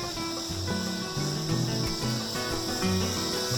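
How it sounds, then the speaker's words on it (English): Cicadas buzz outdoors near a river beside a restaurant, with a steady high-pitched drone that continues through the whole stretch over a low hum of background noise. "I love the sound of cicadas."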